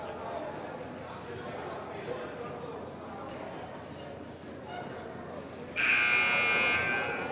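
A loud basketball game buzzer at a high school gym blares steadily for about a second and a half near the end, cutting through the constant crowd murmur and chatter.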